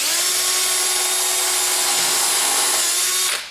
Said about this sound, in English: We'll pre-drill our corners to keep everything from splitting.